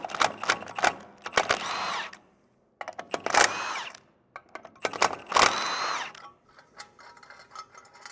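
A power tool spins titanium hardware bolts tight on a Polaris PRO R in three loud, close bursts of whirring and ratcheting, separated by brief pauses.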